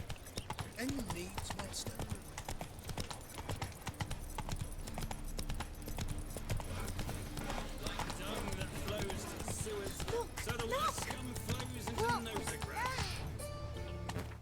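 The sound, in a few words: Roach the horse's hooves in Witcher 3 video game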